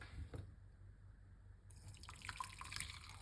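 Liquid being poured off, a faint trickle and dripping splash that grows busier toward the end, heard close with no talking.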